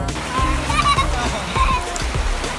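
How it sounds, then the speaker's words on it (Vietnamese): Water sloshes and splashes as someone crosses a forest stream near Gung Waterfall in Lac Duong, Vietnam. Close, uneven splashes run over a constant rushing flow, with a voice talking over them. "vượt dòng suối"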